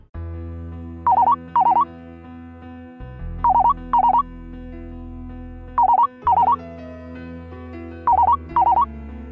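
A phone ringtone repeats in paired trilling bursts about every two and a half seconds, loud and close over a sustained musical backing.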